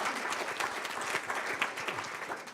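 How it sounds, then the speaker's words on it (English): An audience at a policy pitch event gives a round of applause for the presenters, a dense, steady clapping from a fairly large crowd that carries on throughout without pause. "let's give them another round of applause."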